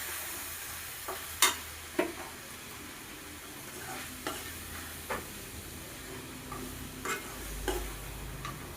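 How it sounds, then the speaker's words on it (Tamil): Homemade masala powder being stirred into a simmering village-style field bean curry: a faint, low sizzle broken by scattered spoon clicks and scrapes every second or so. "அதை சேர்த்து நல்லா ஒரு தடவை கிளறி விட்டுக்கலாம்."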